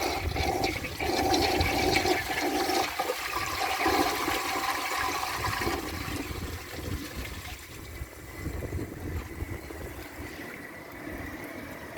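An American Standard Cadet toilet from 2002 flushes a washcloth: a loud, steady rush of water through the bowl and siphon, easing slightly toward the end with a lingering trickle of refill.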